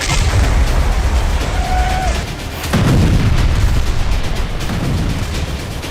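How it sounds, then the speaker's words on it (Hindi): Explosive night strikes by US forces hit Deir ez-Zor in eastern Syria, a loud, continuous rumble of heavy blasts and booming bursts with no voices. "पूर्वी सीरिया में अमेरिका ने यह बारूद रात में बरसाए"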